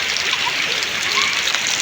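Steady rain falling outdoors near a river during flooding, a dense, even hiss of drops close by, continuous and fairly loud with no pauses.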